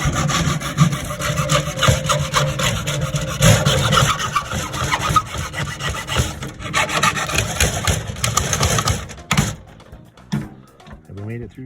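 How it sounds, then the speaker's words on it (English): A hacksaw cuts repeatedly during a generator warranty repair, rasping strokes steady and loud with faint background voices, then stopping near the end. "He's grabbed the hacksaw. He means business now."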